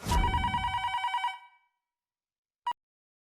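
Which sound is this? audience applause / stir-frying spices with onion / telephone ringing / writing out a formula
telephone ringing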